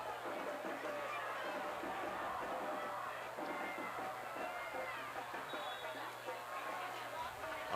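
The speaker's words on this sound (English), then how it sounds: "Very, very big crowd." A very large crowd fills a high school football stadium for Pulaski Academy against Siloam Springs, a steady dense roar of many voices at a distance with a band nearby, continuous throughout.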